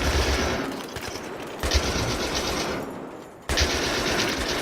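Sustained automatic machine gun fire in the video game Battlefield 3, loud dense bursts of rapid shots with brief dips between them, close up and without talk.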